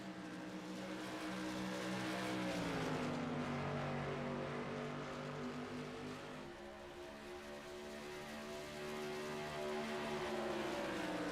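Modified race cars circling the Gateway track in a TRS Tour Modified Series race, their engines droning steadily and loudly, with the pitch rising and falling as the cars pass.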